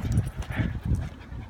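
Older dog resting during a walk near a campus junkyard, breathing in quick, close panting bursts with soft whimper-like tones.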